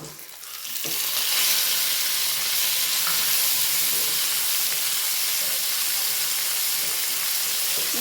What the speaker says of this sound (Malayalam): ഇനി ഇതിലേക്ക് തക്കാളി ഇട്ട് കൊടുക്കുന്നു